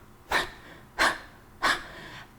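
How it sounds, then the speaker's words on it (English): Three forceful nasal exhalations of breath of fire, a yoga pranayama breathing exercise, each sharp, breathy burst evenly spaced about a second apart, close and clear with no talking. "So now we're going to do breath of fire."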